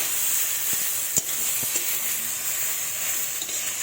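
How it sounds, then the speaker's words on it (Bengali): Spice paste frying in mustard oil for a rohu fish curry, a bright steady sizzle with a couple of faint utensil taps, no voices. "আমি অল্প একটু সরিষার তেল দিলাম, দিয়ে ভালোভাবে মশলাটাকে এর সাথে কষে নেব"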